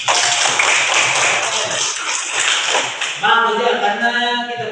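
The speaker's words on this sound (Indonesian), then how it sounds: "Coba kita memberi tepuk tangan." A school class claps together in a sustained round of applause, with a few voices joining in near the end.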